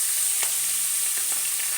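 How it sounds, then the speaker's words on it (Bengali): Grated ginger mixture goes into a hot pan of oil and sizzles steadily, with a few soft scraping stirs of a spatula over the continuous frying hiss while making vegetable chops. "এবার দিয়ে দেবো মিক্স করে রাখা আদা, হালকা নাড়িয়ে নেব।"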